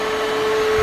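An Aposen cordless stick vacuum cleaner runs steadily at close range, a loud whirring motor with a constant high whine and no talk.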